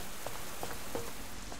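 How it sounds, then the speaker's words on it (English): Rain patters in the survival game Subsistence, a soft continuous hiss with a few distinct drops tapping nearby, muffled and fairly quiet, with no talk. "Wow, I thought the rain had stopped,"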